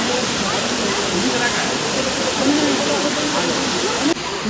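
Nohkalikai Falls in Meghalaya roars as a steady, loud broadband rush of falling water that holds constant throughout, with a brief shift near the end.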